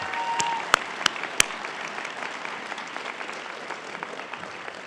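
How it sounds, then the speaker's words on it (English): A graduation ceremony audience gives another round of applause, a fairly close burst of clapping with a few loud near claps at the start, then tapering into scattered hands. "Let's give him one more round of applause."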